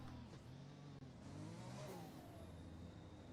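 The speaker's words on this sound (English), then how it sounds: "Oh, that turbo noise." An F1 car's turbo engine revs in the F1 2021 racing game on the Azerbaijan Grand Prix grid, a faint rising whine and engine drone with a brief dip midway.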